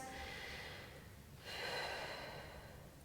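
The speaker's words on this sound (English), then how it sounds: "Let's take another couple of breaths." Deep breathing during a Pilates stretch: a faint, soft inhale followed by a longer, slightly louder exhale through the nose, close and alone.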